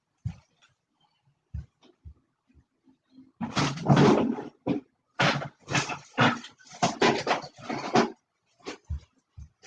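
A dog whimpers and whines indoors in a run of excited, rising vocal bursts, loud and close, between quieter thumps and brief pauses.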